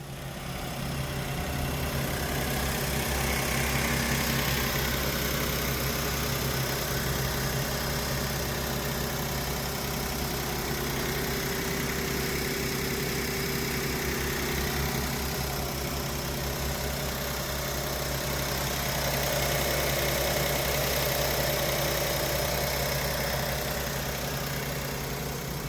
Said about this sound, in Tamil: வண்டியோட இன்ஜின் நாய்ஸ் எல்லாம் பார்த்துருப்பீங்க, கேட்டிருப்பீங்க